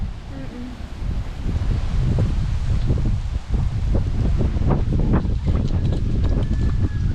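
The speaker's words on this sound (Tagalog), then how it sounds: "Pero malakas yung hangin dito, no?" Strong wind roars steadily and loudly across a high hanging footbridge over a mountain gorge at Nabenngan, Sadanga, Mountain Province, with gusty rumbling and people talking throughout.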